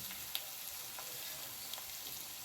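Green chillies and thinly sliced onions fry in a little oil in a kadai, giving a soft, steady sizzle with faint crackles and a couple of small stirring clicks, heard alone and close.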